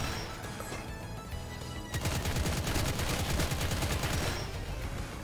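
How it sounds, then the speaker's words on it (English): Gunfire in Impaler, a Doom-like first-person shooter, heard as dense, rapid bursts of shots over a continuous game soundtrack, loud and close, with no talk. "Okay, keep shooting them."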